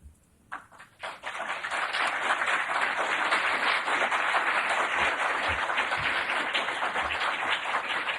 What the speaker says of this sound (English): Thank you for having applauded St. Pius X.